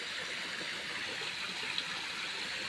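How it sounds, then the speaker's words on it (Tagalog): A river swollen past its banks rushes steadily with broad, even water noise, faint and continuous, with no voices. "umapaw nga po ang tubig oh"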